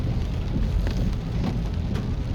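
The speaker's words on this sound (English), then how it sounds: "So the rain is dwindling down a little bit, but lots of water still on the road." Rain pours steadily as a car drives along flooded roads in Half Way Tree, a loud dense wash of water and tyre spray with occasional splashes, constant and close throughout.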